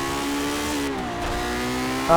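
Lotus 49 Cosworth racing car engine in the Project Cars video game on the Nurburgring, a steady sustained engine tone with a slight dip in pitch and a brief rise at the end, heard alone.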